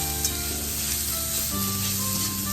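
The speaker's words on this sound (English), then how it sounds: "To stir fry this till it is cooked or slightly cooked." Vegetables stir-fry for hakka noodles in a steady, loud, continuous sizzle with no talking.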